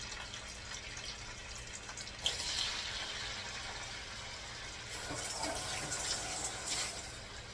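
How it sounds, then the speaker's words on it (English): Wet potato pieces for home fries hitting hot grease in a pan, giving a steady, close sizzle and crackle that swells in bursts as more go in, with no talk. "now I'm going to add them to my grease"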